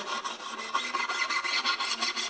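Steel wool rubbed briskly over a viola fingerboard with the string removed, a quick series of dry scratchy back-and-forth strokes, close and fairly quiet.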